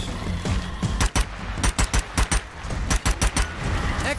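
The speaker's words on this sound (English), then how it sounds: "Use a smaller handgun on these guys." Rapid handgun shots ring out in The Tunnels of Wadjet video game, crisp, loud bursts fired in quick clusters over a steady background rumble.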